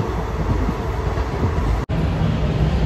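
An old Garib Rath express train coach running, a loud continuous low rumble and roar of the moving carriage heard from inside, steady throughout with one very brief dropout, no talk.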